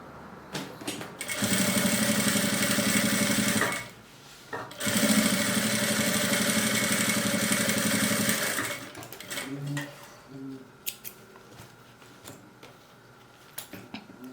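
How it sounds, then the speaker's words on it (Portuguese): An electric sewing machine runs a straight seam on a small fabric zip pouch with a presser foot, humming loudly and steadily in two long bursts separated by a brief pause, followed by small clicks and handling noises. "aí agora a gente passa uma costura reta com um pezinho de máquina"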